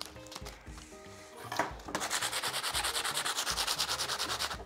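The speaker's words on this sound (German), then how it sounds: "Dazu nimmt man Schleifpapier, eine Bremsscheibe und schleift munter drauf los." Sandpaper sands an e-MTB brake disc, first in irregular strokes and then in a fast, even back-and-forth rhythm of close, loud scratchy rubbing.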